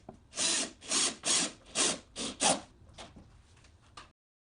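A drill drives 3-inch drywall screws into wood, giving about six close, loud whirring bursts in quick succession, then a few fainter, shorter runs. No one speaks.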